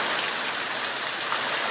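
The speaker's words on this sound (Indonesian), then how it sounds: "Hujan lagi ya guys ya." Heavy rain falling on a June afternoon pours down in a steady, dense broadband hiss, loud and close, with no voices over it.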